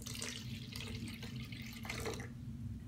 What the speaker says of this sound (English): You got to pour the water into that.